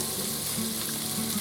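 Andouille sausage fries in butter in a pan, giving a steady, close crackling sizzle throughout the short stretch with no talk.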